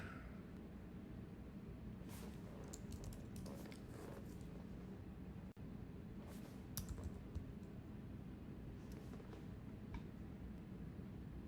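Someone types on a computer keyboard during an online call, producing faint scattered clicks and short bursts of keystrokes over a steady background hiss, with no talk.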